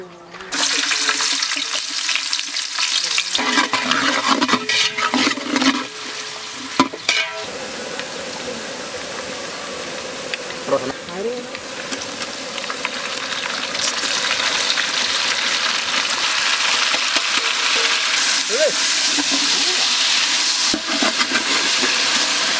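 Four hundred grams of onions fry with fennel, cinnamon, cardamom and cloves in a pan for Chennai-style basmati chicken biryani, a loud, continuous bubbling sizzle with stirring scrapes and clatter early on, steady and close throughout, no talking.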